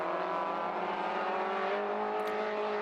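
BMW race cars at the Anglesey circuit hold a steady, sustained engine drone with a strong harmonic whine, continuous and fairly loud throughout, without voices.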